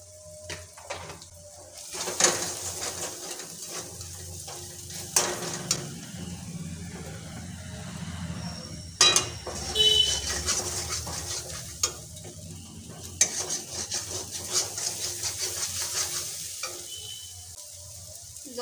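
Spices being stir-fried and sizzling in a pan for egg curry, a steady close frying hiss with occasional scrapes and stirring knocks of a utensil against the pan.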